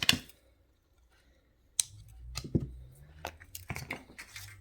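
Jewelry wire snipped at both ends during wire-wrap earring making, heard as a few sharp metallic clicks and snips close by, separated by quiet pauses.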